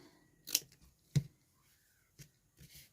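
Scissors snip through small pieces of craft fabric in two sharp, close cuts, followed by a few softer rustling snips, quiet and alone with no talking.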